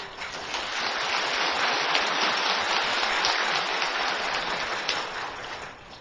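A seated audience at a Buddhist dharma talk applauds steadily for about six seconds, producing a dense, even wash of clapping that fades slightly at the end.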